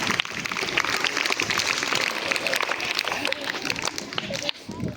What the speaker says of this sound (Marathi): टाळ्या वाजवा मल्ल्यासाठी जरा